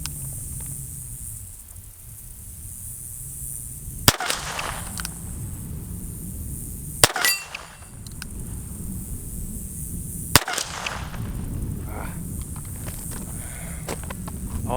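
A Colt King Cobra .22 snubnose revolver fires three sharp shots at an outdoor range, spaced a few seconds apart, each a loud crack with a brief ringing tail over wind noise.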